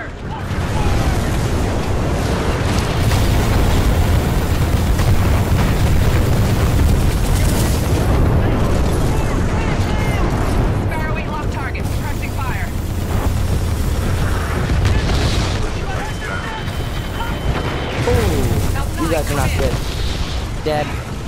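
Weapons fire and explosions from the game Titanfall 2, with heavy booms and bursts of gunfire sounding loud and continuous over dense battle noise, while voices talk through the action.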